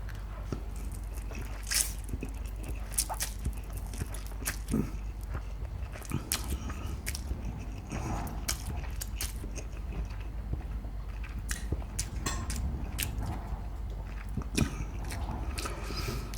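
Chicken chow mein being eaten up close, with soft wet chewing and sharp biting clicks scattered steadily over a low constant background hum, no talking.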